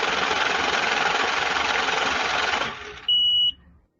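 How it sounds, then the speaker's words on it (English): A printer runs with a loud, steady mechanical buzzing and rattling for several seconds, then stops, followed by a short high electronic beep. "You heard the printer?"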